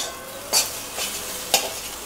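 Egg frying in a pan for mixed fried rice, a steady soft sizzle broken by two or three quick spatula scrapes against the pan, with no talking.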